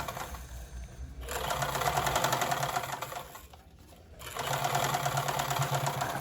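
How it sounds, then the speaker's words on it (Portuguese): A sewing machine stitches a denim shoe in two sustained runs of rapid, even mechanical whirring, separated by a short pause, close up with no talking. "Costurando essa costura de segurança, eu vou prender os dois tecidos."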